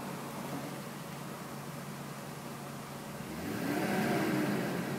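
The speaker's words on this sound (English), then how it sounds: "Look at the idle, perfect. Super smooth idle." A 1998 Mercedes-Benz SL500 AMG idles smoothly in a steady, quiet hum, and a soft rise in the engine note near the end grows slightly louder.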